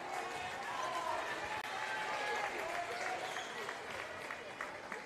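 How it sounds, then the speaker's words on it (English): Crowd in a high school gym applauding during a boys' basketball game, a steady, moderately distant round of clapping that holds throughout, with an announcer's voice running over it. "Nice round of applause for Edwards as he leaves the game"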